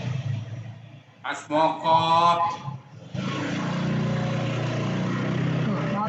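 A brief spoken voice, then a motorbike on a roadside street beside a house drones steadily and fairly close for the rest of the clip.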